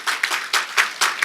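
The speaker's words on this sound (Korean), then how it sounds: "박수를 보내드리겠습니다" Enthusiastic audience applause during a Wednesday church lecture, a dense wash of many hands clapping in loud bursts that swell and ebb over a second or so, with no voices.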